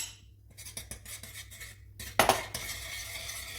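A spoon scrapes and clinks around a saucepan of milk with turmeric paste and black pepper close up, in a few quick strokes with one sharper metallic knock, and no voices.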